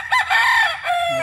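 A single gamecock rooster crows loudly and close by, one short drawn-out call with a few chicken clucks underneath.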